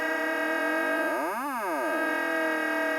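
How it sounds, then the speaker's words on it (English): Glitchy granular vocal effect with layered tones sweeping up and down in a sharp peak, a sustained processed synthetic texture heard alone without talk. "it sounds like it's kind of pitching up and like glitching out a little bit."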